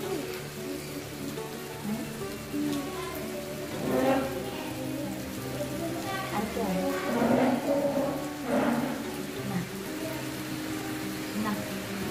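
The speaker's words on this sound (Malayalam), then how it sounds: "ഈ സമയത്ത് പുറത്ത് നല്ലൊരു ചാറ്റൽ മഴ ഉണ്ടായിരുന്നു കേട്ടോ." Light evening drizzle falls outside a home, a steady soft patter of rain with a few louder splashes, heard from indoors and faintly mixed with background sounds.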